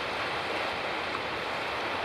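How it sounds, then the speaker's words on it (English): Broadband rushing of whitewater rapids on the Missinaibi River, heard from a kayak as it nears the churning water; a steady, loud, continuous roar with no voices. "As we approach our first rapids, you can see the water start to boil."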